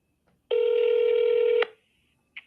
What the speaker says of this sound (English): Let me dial it up. I just found it on my phone.